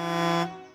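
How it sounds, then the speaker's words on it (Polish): Truck horn in the video game Alaskan Road Truckers, a single loud, rich sustained blast at close range that cuts off and fades quickly, with no talking over it. "Klakson działa."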